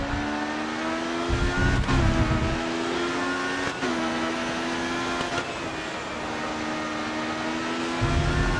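Race car engine in Grid Autosport, a steady high-pitched drone with rising and falling revs and brief gear-shift dips, loud and alone throughout an endurance race lap.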